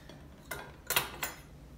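A spoon clinks against a bowl three times while marinade ingredients for shrimp are mixed: black pepper, honey and soy sauce. The taps are faint, quick and close in a quiet room.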